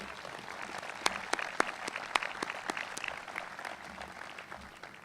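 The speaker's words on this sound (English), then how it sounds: "Please give them a big round of applause." An audience applauds donors at a sports medicine partnership event, a steady mass of clapping with several sharp, louder individual claps standing out near the front.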